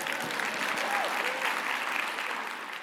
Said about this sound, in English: please, go ahead, clap